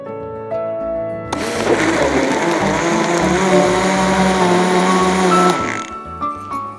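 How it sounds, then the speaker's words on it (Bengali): A blender whirs loudly and steadily for about four seconds, blending a banana milkshake with water added. Quieter motor sounds come before and after the main run. "এবার আমার শরবতটাকে আমি ব্লেন্ড করে ফেলব।"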